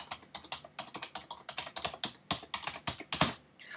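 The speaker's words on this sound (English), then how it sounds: "you would type in your..." A computer keyboard is typed on in quick, uneven runs of crisp clicks that sound close and fairly quiet, with no talking.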